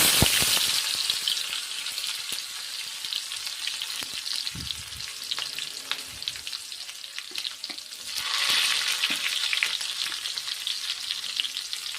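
Cumin seeds and garlic sizzling in hot oil for a spicy pea curry, a bright, crackling fizz with scattered pops and spoon clicks that swells again near the end, close up and steady over twelve seconds, no one speaking.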